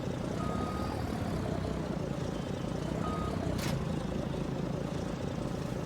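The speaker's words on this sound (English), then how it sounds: "Took 2-3 times to get finally backed up to the trailer." A truck backs up to hitch a deck-over wheels trailer, with intermittent reversing beeps sounding over a steady low engine rumble throughout.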